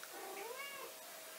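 A domestic cat meows once, a drawn-out, rising-then-falling call heard fairly faint and close over a steady background hum, with no one speaking.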